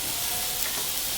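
Steak and garlic frying in hot oil in a pan, a loud, dense, continuous sizzle and crackle, close up with no talking.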